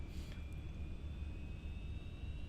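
An MD80 airliner in the X-Plane 11 flight simulator taxis onto the runway, its engines giving a steady, even jet whine and rumble with a faint high tone running through, with no pauses.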